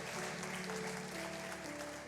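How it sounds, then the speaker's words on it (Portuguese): A church congregation applauds during a worship service, a sustained, moderately distant patter of clapping that fills the whole moment without talk over it. "Você pode aplaudir a Ele?"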